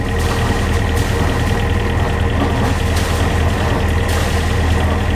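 A steady, low engine drone from a Beneteau Oceanis 45 sailing yacht runs throughout, a constant rumbling idle with no voices, close and fairly loud.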